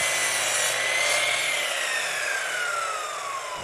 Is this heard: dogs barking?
no